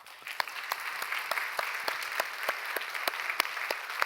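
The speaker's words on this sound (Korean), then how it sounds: "하나님께 영광의 박수 한번 드리죠." A church congregation applauds after a sermon, a dense, continuous patter of many hands with sharper individual claps popping out in a fairly regular rhythm.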